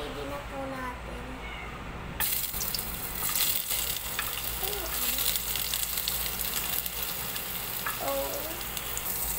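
Ginger sautéing in a pan for sinigang na galunggo, a steady moderate sizzle that swells after a couple of seconds, with a voice speaking over it.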